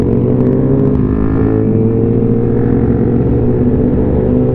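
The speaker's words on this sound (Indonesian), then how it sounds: "knalpot dipasang pakai Austin Racing yang suaranya menderu-deru ngebas seperti ini" Deep, loud Honda CBR1000 superbike with an Austin Racing exhaust idling and revving with a throaty, bassy exhaust rumble, sustained throughout without pause.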